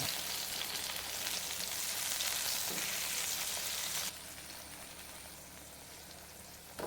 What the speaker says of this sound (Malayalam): തക്കാളി ഈ വശം കൂടി ഒന്ന് ഫ്രൈ ആയി വെക്കാം